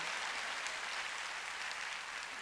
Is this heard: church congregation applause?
yes